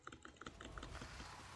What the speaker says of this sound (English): So he's just spamming his keyboard, dude.